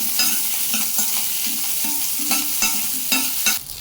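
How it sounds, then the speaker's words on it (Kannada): Ginger, curry leaves and onion frying in a pan for a kabuli chana curry, a close sizzling hiss with rhythmic scraping strokes of a spatula, about one every half second. "ಕರಿಬೇವು, ಈರುಳ್ಳಿ, ಇದನ್ನು ಚೆನ್ನಾಗಿ ಫ್ರೈ ಮಾಡ್ಬೋದು."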